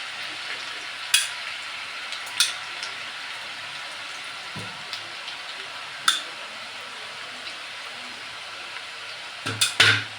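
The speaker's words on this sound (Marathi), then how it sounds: "तेल तापले आपण शेव टाकून घेऊ" Potato sev fries in hot oil with a soft, steady hiss, punctuated by a handful of sharp crackles and pops, the loudest cluster coming near the end; no talk.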